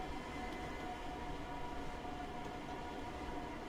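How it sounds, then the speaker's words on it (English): An oncoming train in the Train Sim World 2 simulator on the Cathcart Circle line, a steady rumbling roar with a faint tonal whine running through it. "And a train coming towards us."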